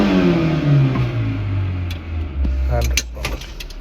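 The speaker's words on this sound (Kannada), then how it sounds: "ಇಂಜಿನ್ ನಾಯ್ಸ್ ಕೇಳಿ ನೋಡಿ." A 2020 Maruti Suzuki Eeco engine runs just after ignition, a close, loud harmonic hum that drifts downward in pitch and settles, with a voice talking and a few clicks and taps over it.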